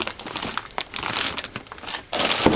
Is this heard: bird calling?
no